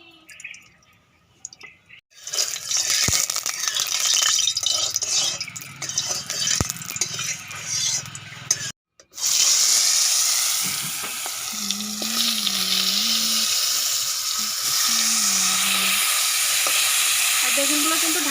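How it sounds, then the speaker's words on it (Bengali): Eggplant fries in mustard oil in a hot wok with a loud, steady sizzle and crackle. Occasional stirring scrapes and a brief break interrupt it, and a low tonal hum rises in the later part. "প্রথমে বেগুনগুলো ভেজে নেব হালকা করে।"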